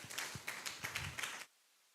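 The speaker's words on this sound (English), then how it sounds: "Give the councillor a bigger round of applause on that." A small audience at a community Wi-Fi launch claps for a councillor: a short burst of scattered, uneven handclaps, fairly faint and close, stopping abruptly into silence.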